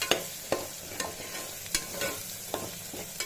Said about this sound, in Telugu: అన్నీ ఆయిల్లో ఇలా బాగా వేగిపోవాలి